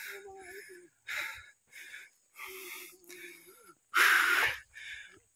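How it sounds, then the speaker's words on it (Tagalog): Heavy, labored panting after a climb uphill on a walk toward a stream: a series of loud, breathy gasps in separate bursts, some voiced, with the last burst the strongest. "Hinihingal ako."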